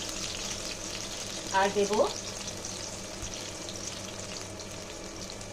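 Chopped onion and tomato sizzle in hot oil in a pan, a steady frying hiss throughout, with a brief voice speaking over it.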